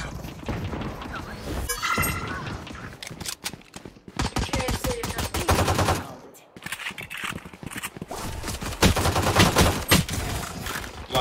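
Valorant match with rapid gunshots and bursts of automatic fire in several clusters, mixed with other game effects, while a player talks over the action.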